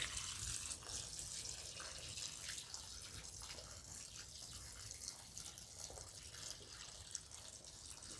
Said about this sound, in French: Ok, un petit arrosage.